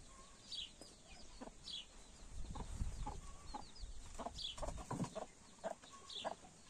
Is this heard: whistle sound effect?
no